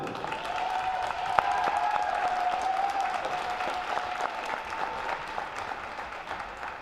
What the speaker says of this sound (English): Let's have one more round of applause for the Lynchburg women's basketball class of 2023.